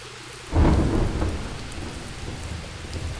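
Rain and a thunderclap in the video game The Touryst: a low rumbling crack breaks in suddenly and rolls away slowly over a constant hiss of falling rain.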